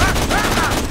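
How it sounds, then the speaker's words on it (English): Dense, loud covering fire in Borderlands 2 fills a brief moment as a continuous roar of overlapping shots with no gaps. "Covering fire!"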